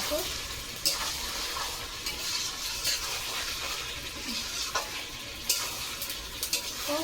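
Food sizzles steadily in a frying pan while being stirred and cooked down, a constant close hiss broken by occasional scrapes and clatters, with brief faint speech.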